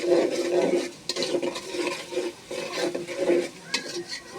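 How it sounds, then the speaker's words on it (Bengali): Onions frying in a pot for mutton biryani, stirred steadily with a spoon: close scraping and clinking over a continuous sizzle. "ভালোভাবে নেড়ে বাদামি রং একটা ফ্লেভার আনতে হবে"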